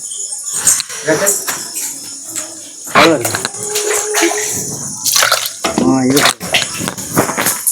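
Hands washed under running water in a village home, with splashing and trickling in irregular bursts beneath frequent nearby talking.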